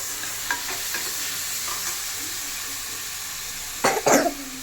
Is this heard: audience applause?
no